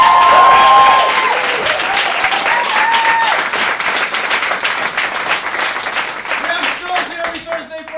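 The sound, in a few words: audience applause for the crew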